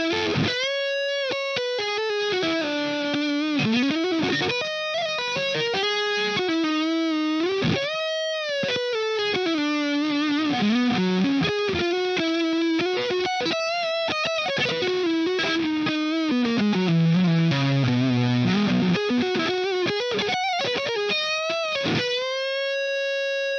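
Electric guitar played through a free distortion plugin on a mellow, singing lead tone, a sustained, smoothly driven single-note melody with bends and held notes, played alone without talk.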